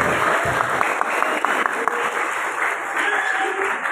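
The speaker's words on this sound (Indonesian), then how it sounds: "Tepuk tangan untuk GSD Bina." Audience applause at an Islamic elementary school ceremony for Quran completion and exams, steady crowd clapping with a constant high electronic tone underneath.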